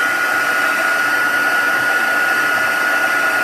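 A heat tool blows steadily across an art journal page made with bleeding tissue, a loud, even whirring rush held from start to finish with no talking.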